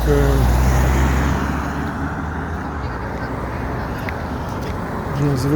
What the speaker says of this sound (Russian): Место очень шумное, все время машины едут.